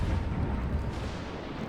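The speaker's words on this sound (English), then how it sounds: "Shimakaze decides he's just going to go down swinging, so he starts firing his guns." The Shimakaze destroyer in World of Warships fires its guns as a heavy, continuous rumbling boom that stays loud throughout and is not broken into separate shots.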